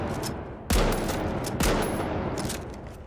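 Two loud, heavy booming shots from a heavy-class weapon in The Finals, spaced about a second apart, each with a sharp crack and long rumbling tail over steady background game noise.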